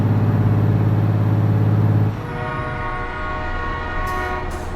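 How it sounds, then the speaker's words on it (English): A train rumbles loudly through American Truck Simulator, its deep low drone dominating the first two seconds, then easing into a steadier rolling clatter with a sustained horn-like tone and brief hissy bursts near the end. "Okay, there's a train somewhere."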